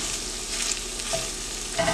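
Curry leaves going into chicken frying in a pan, a dense close sizzle with light stirring movement and a couple of brief crackles near the end, no one speaking.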